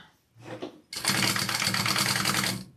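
A sewing machine runs a basting stitch in a close, loud, steady rapid whir for nearly two seconds after a brief starting hum.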